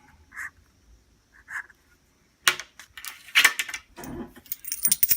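Several coins tossed by hand to cast an I Ching line, giving two short metallic jingles followed by a louder, longer run of clinking and rattling as they land and scatter, close by with no talk.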